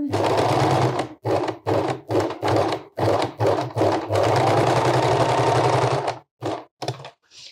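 A sewing machine stitches a trouser waistband with a size 14 needle in loud, close, whirring runs, broken by short pauses and quick stop-start bursts toward the end.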